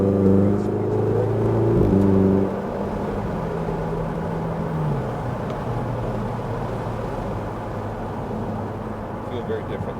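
A Ferrari 488 GTB or Porsche 911 GT3 sports car is driven on a race track, and its engine tone holds steady, dips and settles into a lower drone as it moves through a corner, loud and close inside the cabin.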